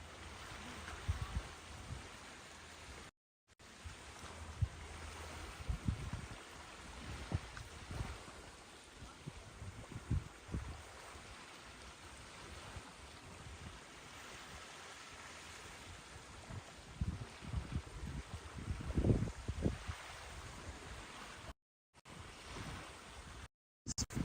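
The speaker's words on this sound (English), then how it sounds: "listening to the sound of the ocean, the waves lapping on the shore" Gentle ocean waves lap against the shore at an island resort near Port Moresby, a soft continuous wash with low rumbling surges and faint wind, steady and unhurried, with no talking.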